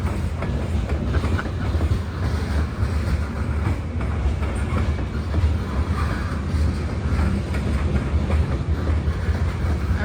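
A big freight train rolls past steadily with a continuous loud rumble and clattering wheels on rails, heard from a railroad overlook, with no break for the whole stretch.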